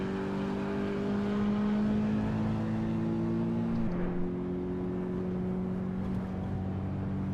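Steady engine drone of a small car driven in the racing game AC EVO, holding a constant tone before a brief dip and shift around midway, then settling into another sustained note; no talking.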